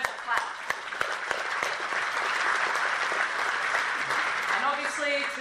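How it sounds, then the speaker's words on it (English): Audience applause fills a lunch function room for Senator Bridget McKenzie, a steady, dense wash of clapping lasting several seconds with a few sharper individual claps at the start. "she deserves a clap"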